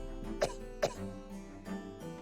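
Two sharp, voiced coughs in quick succession from a person recording for a video game playthrough, followed by quieter throat sounds, all over a steady background of game music.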